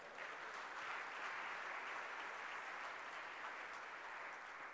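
A seated audience at a talk applauds the speaker, a faint, steady wash of many hands clapping, heard from a distance without pause or voices.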